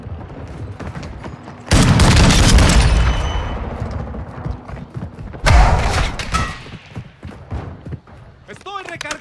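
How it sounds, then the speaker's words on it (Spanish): A flashbang grenade goes off in Modern Warfare 2 gameplay as two loud, booming bursts that decay into rumble, with game voices and chatter between and around them. "¡Lanzando una granada cegadora!"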